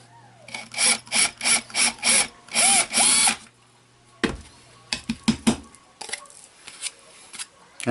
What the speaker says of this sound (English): I'm just going to go ahead and drill my hole.